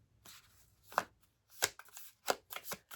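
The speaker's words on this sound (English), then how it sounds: "I do not shuffle well with these cards." Tarot deck being shuffled by hand during a love reading, a few separate riffling bursts and card slaps, close and quiet, spaced irregularly with brief silences between them.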